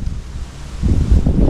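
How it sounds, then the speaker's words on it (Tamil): Strong wind buffets the microphone in a steady low roar that swells louder midway through, with no voices. "சுற்றி கம்மாங்கிறனால பார்த்தீங்கன்னா பயங்கரமாக காற்று அடிக்குது."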